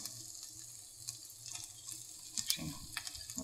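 Shaved Brussels sprouts fry in hot oil with a faint, steady sizzle, soft crackles and a few stirring scrapes near the end.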